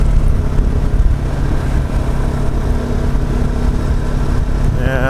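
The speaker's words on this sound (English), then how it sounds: "Definitely a high revving engine." Husqvarna 701 motorcycle engine running steadily on gravel, a loud continuous drone with a slight rise in revs near the end.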